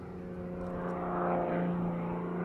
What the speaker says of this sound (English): aerobatic planes are designed to fly upside down